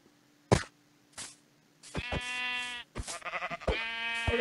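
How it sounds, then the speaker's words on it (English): A black sheep in the Minecraft video game bleats several times in short, loud, harmonic calls spaced apart, with a sharp click or thud near the start and no talk over it. "Black sheep!"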